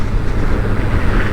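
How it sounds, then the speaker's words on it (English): A Suzuki GSX-R1000RR sportbike from 2021 rides over a bumpy road section. Loud, continuous low engine roar is thickly mixed with buffeting wind noise at the rider's microphone, with no distinct gear changes standing out. "You see, now we come into a bumpy section, dropping the gears."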